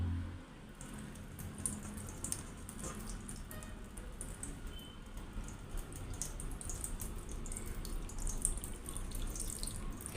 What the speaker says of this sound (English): How does water spill out you just see.